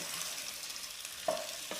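A snack being stirred into hot, sizzling spice tempering in a pan: a steady bright frying hiss throughout, with a couple of short scraping stirs near the end.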